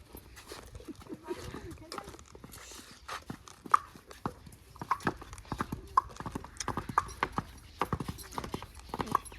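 A mare's hooves clip-clop in an irregular walking rhythm in a village, sharp knocks repeating nearby while people talk over them and a dog is faintly audible.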